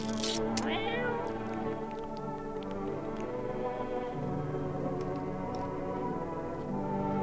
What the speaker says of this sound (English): Where's my cat? I want to at least give you some cat food.